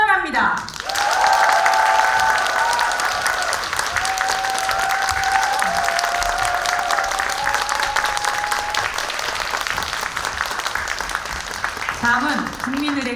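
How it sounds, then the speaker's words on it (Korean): Dense, sustained audience applause with cheering fills a hall at a women's party founding convention, loud from start to finish, with faint tonal sounds running underneath before it tapers at the end. "큰 박수와 한호로 대회를 선언합니다."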